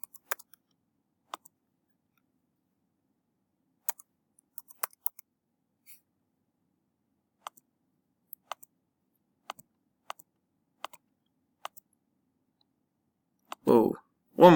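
Scattered light key clicks from typing on a computer keyboard while entering a matrix equation, coming in short isolated taps and small clusters, quiet and close, with a brief voice near the end.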